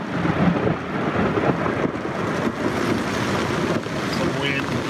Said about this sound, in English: Getting some bad thunderstorms and lightning.